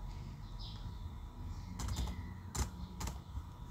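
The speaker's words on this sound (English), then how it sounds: "we type the word device" Soft, sparse keystrokes on a computer keyboard, a handful of quiet clicking taps over a faint room hush, as someone types a search on a Windows 7 PC.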